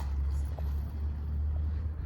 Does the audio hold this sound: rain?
no